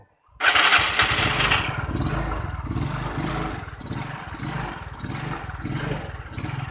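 A motorcycle engine fires up just after a new carburettor is fitted, then settles into a loud, close, pulsing idle with rhythmic chugging that rises and dips slightly, no speech over it.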